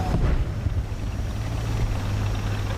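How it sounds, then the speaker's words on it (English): Low, steady tank engine rumble from an enemy vehicle in the War Thunder ground battle game, a continuous droning hum held at an even level throughout with no talk over it. "Pretty sure I'm hearing another engine."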